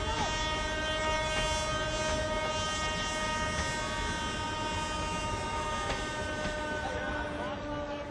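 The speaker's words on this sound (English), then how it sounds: "I'm at the local train station." A train at a local station near a village on the outskirts of Shahabad rumbles steadily past, with a sustained horn-like tone held throughout and faint clacking in the background.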